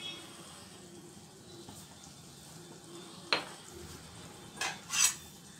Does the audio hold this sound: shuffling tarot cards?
no